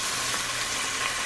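Chicken pieces for lemon chicken piccata sizzle in a pan, a steady, bright frying hiss that stays constant throughout with no voices.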